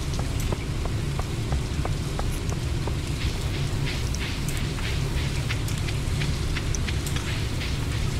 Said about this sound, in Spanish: como está lloviendo, todo el mundo se ha guardado